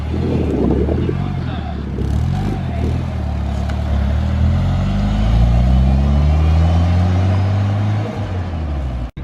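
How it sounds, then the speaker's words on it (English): A Nissan S15 Silvia JDM car pulls away, its engine note rising and shifting through gears, loud and close at first and slowly receding over several seconds. "Thompson's just gonna head out."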